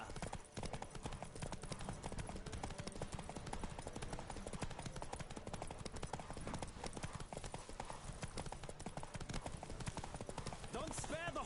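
Horse hooves gallop in a race in The Witcher 3 video game, a rapid, continuous clip-clop drumming that stays loud and steady throughout, with a brief whinny near the end.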